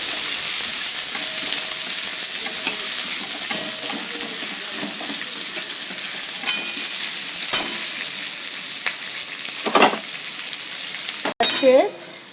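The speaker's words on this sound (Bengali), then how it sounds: "পেঁয়াজগুলোকে ব্রাউন করে ভেজে নেবো বন্ধুরা।" Three large chopped onions browning in hot oil in a pan for a Bengali bhola fish curry, giving a loud, steady sizzle with occasional stirring scrapes and no talking.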